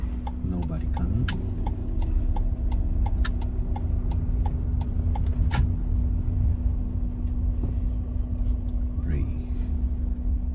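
A car's turn signal ticks at a steady, regular rhythm inside the cabin over a low engine hum; about a dozen crisp clicks, then it stops, with faint talking in the background.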